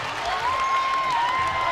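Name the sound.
basketball crowd cheering after alley-oop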